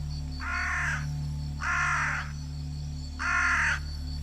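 A jungle crow caws three times at an even, unhurried pace, harsh and fairly close, over a steady low hum in the background.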